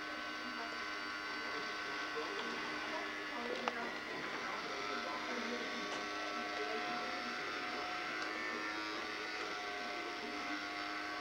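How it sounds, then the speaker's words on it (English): A household vacuum cleaner running continuously nearby on Christmas Eve, a steady droning whine with a constant hum and no breaks. "Is your vacuum working okay?"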